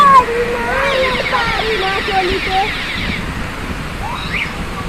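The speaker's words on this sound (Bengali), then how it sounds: "ওই দেখো ভালো বৃষ্টি পড়ছে" Heavy rain pours outdoors in a park, a loud, steady broadband hiss that runs through the whole stretch while people talk nearby.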